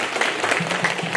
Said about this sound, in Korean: 저희들이 박수로 환영하면 좋겠습니다